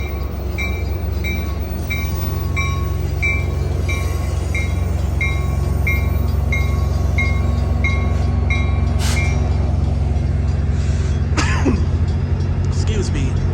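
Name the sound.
Amtrak Capital Corridor train arriving at station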